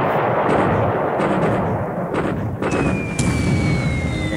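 Muffled explosions from bombs striking a ship in the strategy game War in the Pacific, a steady rumbling barrage of blasts with a few sharper bursts and a thin tonal whine near the end.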